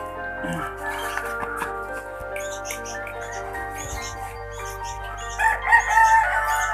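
A rooster crows in a rural family setting, the call rising and stretching out over steady background noise, with a louder burst near the end; people talk around it.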